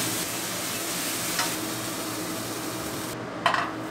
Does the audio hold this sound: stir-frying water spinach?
yes